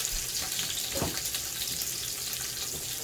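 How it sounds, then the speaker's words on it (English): Olive oil sizzling steadily with bell peppers frying in a pan, a continuous hiss with a brief clatter near the start, close by. "Bell peppers first. Hear that sizzle? You want that sizzle."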